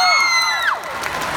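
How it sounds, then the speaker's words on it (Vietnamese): A crowd at a concert event at Yamaha Grande, Vạn Hạnh Mall, lets out loud cheers and whoops. Shrill sliding shouts ring out over a noisy backdrop of the audience. "những tràng pháo tay của tất cả quý vị đâu ạ?"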